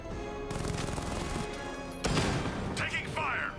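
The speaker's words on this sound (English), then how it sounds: "Taking fire!" Gunfire in Batman: Arkham Knight, a quiet rattle of rapid shots with a sharper crash near the middle, heard under ongoing voices.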